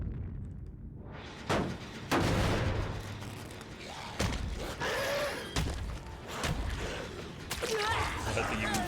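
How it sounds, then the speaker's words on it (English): A flashbang goes off in the Dead by Daylight game, a sharp broadband burst among several loud thuds and clattering game sounds, with a voice talking through much of it. "Flashbang."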